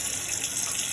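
Tap water running in a steady gush to wash a raw, salted pig tail, a continuous hiss of flowing water with no voices.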